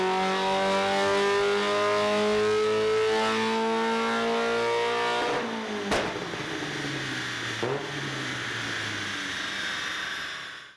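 A Mazda Miata engine on a dyno revs hard and climbs steadily in pitch for several seconds, roaring loudly, then a sharp pop and the revs fall away and fade.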